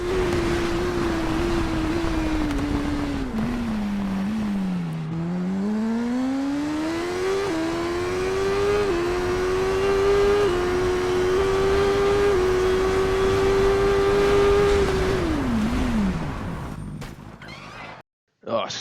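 A motorcycle engine in the racing game TT Isle of Man Ride on the Edge 2 howls steadily as the bike accelerates hard out of a leaning curve. The pitch dips, then climbs and holds high before falling away near the end.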